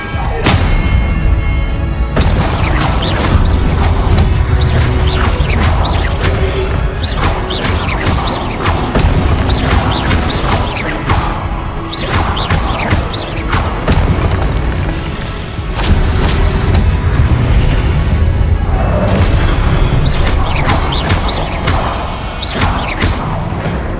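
Spell blasts in the Hogwarts Legacy video game: repeated loud booming explosions and crashing impacts with whooshes, dense and continuous, with short quieter gaps between bursts.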